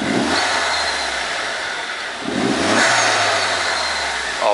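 A Vauxhall VXR's engine, freshly fitted with its first modifications, revs up, drops back, then climbs again in a loud, close throaty rise, heard alone.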